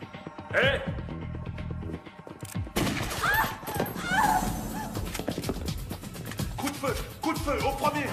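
Gunfire erupts in an action film scene, a burst of rapid shots among shouting voices, horse whinnies and hoofbeats, with a dense chaotic mix throughout.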